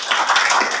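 Audience members clap together on request during a sermon-style talk, a short burst of many hands, close and fairly loud.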